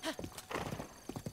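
A horse in Zelda: Breath of the Wild, with hooves clip-clopping in a quick rhythm and a short neigh at the start, moderately quiet game audio with no talk over it.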